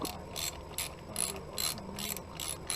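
Ratchet socket tightening a nut on a Honda Bros motorcycle, delivering a series of rapid metallic clicking bursts in a regular back-and-forth rhythm, close and clear, with no talking.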